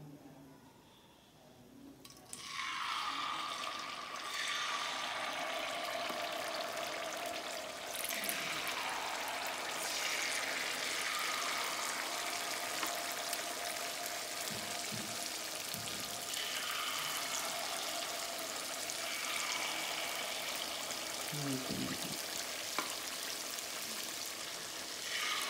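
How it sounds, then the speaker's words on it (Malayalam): Unniyappam batter poured into a hot appam pan, a soft sizzling and frying hiss that rises as batter hits the oil and repeats in several faint waves, continuous and quiet. "ഓക്കെ, അപ്പം ഞാൻ അടുത്തത് ഒഴിക്കാൻ പോവാണേ."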